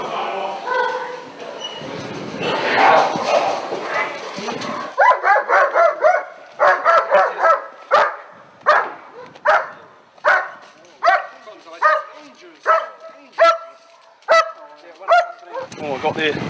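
A police dog barks repeatedly in loud, sharp, evenly spaced bursts close by, following an opening stretch of people talking and shouting.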